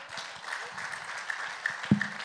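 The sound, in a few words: applause in church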